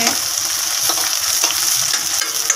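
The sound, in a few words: chillies and onion frying in oil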